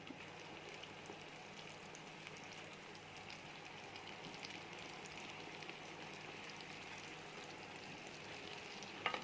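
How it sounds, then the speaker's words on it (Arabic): Chocolate beignets fry in hot oil, a steady dense crackle and sizzle like light rain that runs throughout, with a small clatter at the very end. "وهادو ديال الشوكولات ها هما اللي غادي نقليهم"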